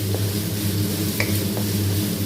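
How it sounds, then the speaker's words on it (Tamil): Tomatoes sautéing in oil in a pan for a Tamil-style fish curry give a steady, close sizzle with faint stirring clicks and no voices. "தக்காளியிலேருந்து எண்ணெய் மேலே வர அளவுக்கு நல்லா வதக்கிக்கோங்க"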